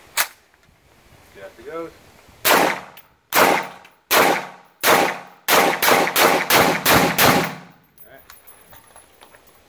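Shots from an IWI X95 Tavor bullpup rifle ring out loud and close, a dozen sharp cracks in a spaced string that quickens into a tight volley, with brief talk before the firing starts.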